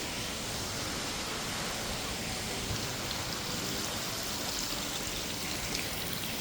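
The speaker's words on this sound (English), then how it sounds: "I love this water fountain." Continuous splashing water from an indoor fountain in a hotel lobby in Sharm El Sheikh, a steady hiss-like rush with no break or change.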